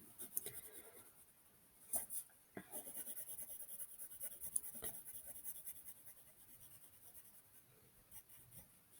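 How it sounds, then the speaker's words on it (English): Graphite pencil drawing a line across paper while sketching a mug, a soft continuous scratchy stroke with a few sharper taps, close and quiet with no talking. "using my pencil, I'm just going to put that line in."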